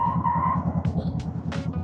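A car skids on a road, with a short tire squeal over the steady hum of a vehicle interior, heard from inside a moving car.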